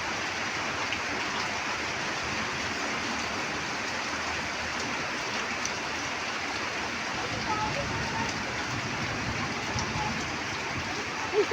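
Heavy rain pours steadily, with a broad rushing wash of water like runoff spilling from a gutter, continuous and fairly close, with a faint voice underneath.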